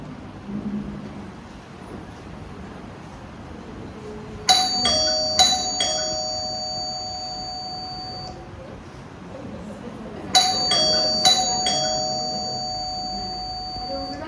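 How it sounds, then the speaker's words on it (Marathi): A doorbell chimes early in the morning at home, ringing twice: a bright multi-tone chime that recurs after several seconds over a faint background. "5:30 वाजता ही काय बेल वाजवायची वेळ आहे का?"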